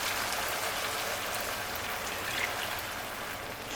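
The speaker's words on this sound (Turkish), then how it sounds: "Artık suyunu katıyorum." Chicken stock poured steadily into a pot of rice, a continuous broadband splashing wash with no pauses, close and fairly loud throughout.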